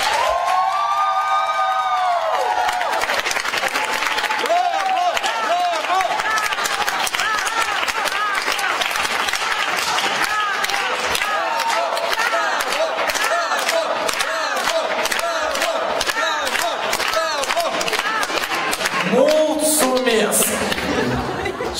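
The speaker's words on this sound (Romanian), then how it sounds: "Vreau totuși încă o dată aplauze pentru Denis." A Science Slam audience in Moldova cheers and applauds for the winning presenter, a dense sustained roar of clapping, whoops and shouting crowd voices that stays loud throughout with a brief louder burst near the end.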